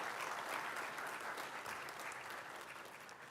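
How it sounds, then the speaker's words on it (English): Steady, dense applause from an opening ceremony audience, heard at a distance and fairly soft, with no break across the whole stretch. "I'd like to ask you all to please give him a round of applause."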